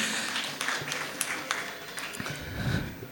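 An audience gives scattered applause, with individual claps popping out over a low murmur for a few seconds. The claps are moderately quiet and uneven.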